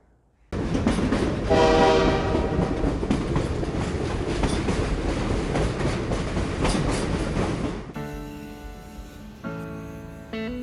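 Rio Grande Southern 20 steam locomotive being pulled out of the shop at the Colorado Railroad Museum: a loud rolling rumble with clanking and rail clatter, then a sustained horn-like tonal blast near the end.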